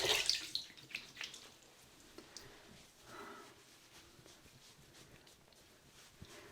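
Water runs steadily from a bathroom tap for rinsing after a shave, a faint, low hiss with small splashes and handling noises, with no talk.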